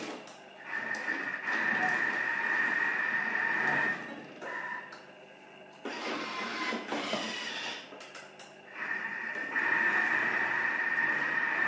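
A Thermomix TM6 chops chili pepper and vegetables at speed 6, a steady whirring motor whine that runs in several bursts with short pauses between, fairly close and loud.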